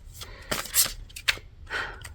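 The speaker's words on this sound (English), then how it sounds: "So as I'm shuffling out your cards," Tarot cards being shuffled by hand, a few soft riffling and slapping bursts of card noise, close and quiet, with no talking.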